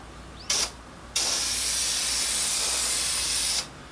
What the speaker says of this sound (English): we're going to spray that on